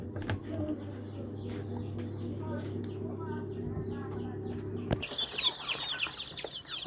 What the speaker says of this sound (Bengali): এক মাস প্লাস দেশি মুরগির বাচ্চা, এখানে কিছু অনাকাদরের বাচ্চা আছে 1 মাসের